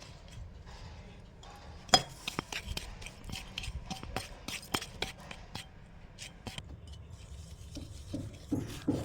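A spoon stirs salt and chili powder together in a bowl for raw mango, giving soft gritty scraping with scattered sharp clinks of metal on the dish, close and fairly quiet.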